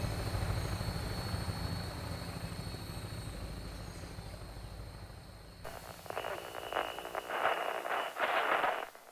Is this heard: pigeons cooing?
no